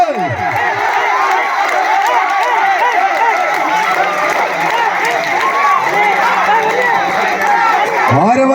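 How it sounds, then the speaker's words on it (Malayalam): A dense crowd roars, cheers and claps steadily throughout at a football match between Calicut and Redstar Vaduvankulam, with shrill whistles and horn-like tones rising above the constant din. "ആരവങ്ങളുടെയും കയ്യടിത്താളങ്ങളുടെയും ആർപ്പുവിളികളുടെയും നടുവിൽ"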